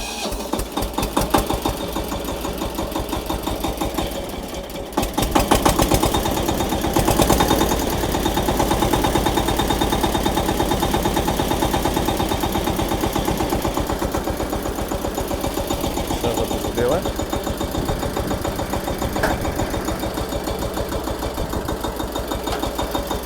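A KENTAVR 200V walk-behind tractor with a reinforced frame runs steadily at idle, a close, continuous mechanical chugging with a brief dip in loudness early on before settling into an even, sustained throb.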